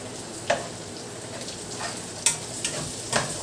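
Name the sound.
frying fishballs and kikiam in oil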